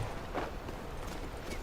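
Horse hooves clip-clop at a walk in the video game King's Bounty 2, a faint, soft, uneven patter of steps.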